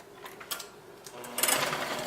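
An electric mixer creams butter with brown sugar for chocolate almond crackle cookie dough, whirring in short, uneven bursts that grow louder toward the end.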